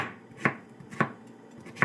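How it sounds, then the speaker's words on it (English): Knife chopping homegrown zucchini into small chunks on a cutting board, three sharp, close, evenly spaced chops alone with no talk. "I usually chop my zucchini like this, mostly."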